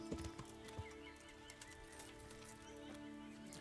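A horse in the medieval video game Kingdom Come clops along with soft, steady hoofbeats and lets out a quiet whinny, all faint and low in the mix.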